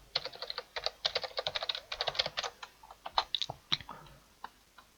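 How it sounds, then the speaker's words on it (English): Rapid clicking of a computer keyboard as a web address is typed, in quick irregular bursts of close, crisp keystrokes with short pauses and no speech. "I'll type in www.google.com."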